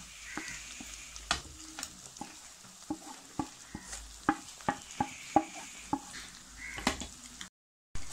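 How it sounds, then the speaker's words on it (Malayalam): Chili and coriander powder are stirred into fish curry in a pan, a steady low sizzle broken by repeated sharp scrapes and taps of a spoon against the pan, close and quiet, no voices. "ഇനി ഇതെല്ലാം കൂടെ നന്നായിട്ടൊന്ന് മിക്സ് ചെയ്യുന്നു."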